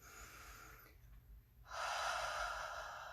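A slow inhalation drawn through a slightly constricted throat, like fogging a mirror, gives a breathy rush that starts after a short pause and holds steady for over a second, close and fairly quiet.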